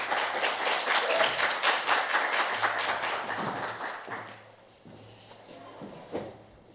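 Audience applause fills a lecture hall, steady dense clapping for several seconds welcoming two speakers on digital health, then thinning out to scattered claps and quiet room noise.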